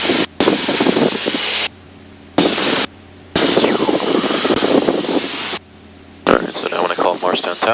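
Small fixed-wing airplane engine running during takeoff, a steady loud drone broken by several abrupt cutouts, with radio voices talking over it.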